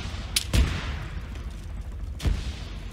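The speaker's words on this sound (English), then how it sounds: "Getting shot at!" Gunfire in the video game Arma 3: a few sharp, loud shots, one early crack, a heavier report around half a second and another near two seconds, over low ambient rumble without talk.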